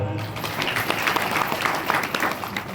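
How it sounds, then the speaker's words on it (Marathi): Audience applause in honour of a Maharaj at a devotional Marathi kirtan gathering, dense steady clapping from many hands that carries evenly through the whole stretch with no voices over it. "एकदा महाराजांसाठी आपण एकदा टाळ्या वाजवू."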